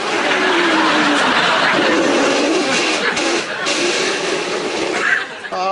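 A voice imitates a racing car engine at a motor race, a sustained loud droning whine that rises and falls continuously, ending with a brief sharper burst.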